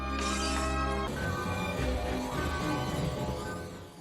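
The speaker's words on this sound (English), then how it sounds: "she snaps and begins smashing up her apartment, her old self" Objects crash and shatter as an apartment is smashed up in the film Batman Returns, a loud breaking impact giving way to rattling debris over a tonal musical score.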